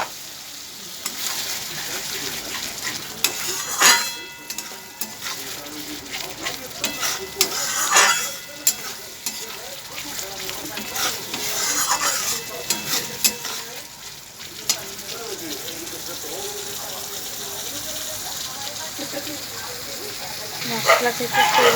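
Masala for a pomfret fish curry simmers and is stirred with spice water in a pan, producing continuous close sizzling and bubbling with repeated scraping stirs and utensil knocks.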